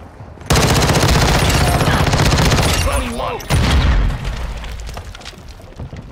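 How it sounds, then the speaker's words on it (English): A cruise missile launch and explosion in Modern Warfare 2, a sudden loud roaring blast that holds heavily for several seconds, with a voice briefly over it, then a second burst before it rumbles down. "Cruise missile ready for launch."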